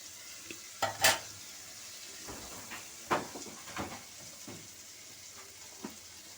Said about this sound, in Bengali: কাঁচা লঙ্কা পেস্ট দিচ্ছি এটা কাঁচা লঙ্কাটা ভাজা হোক